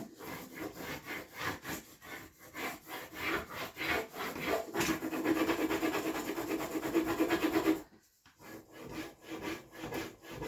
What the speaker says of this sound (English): we're gonna rub all that in this area that's just flat till we get to the routed edge